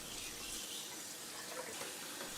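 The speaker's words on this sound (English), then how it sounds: "clean your duck by rinsing it several times in cold water" Cold tap water runs steadily as a whole duck is rinsed under the faucet, a soft, even hiss and splatter throughout.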